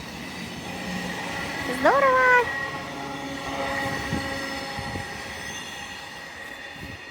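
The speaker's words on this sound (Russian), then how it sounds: "Да, это электричка." An electric commuter train passes on a railway near a snowy forest, a sustained rumbling roll with a brief high squeal or horn-like tone near two seconds, while a person speaks briefly nearby.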